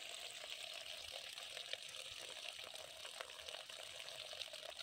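Rusty water drains from a hose pipe used for watering a pig pen, a steady, faint gushing flow with no pauses and no voices.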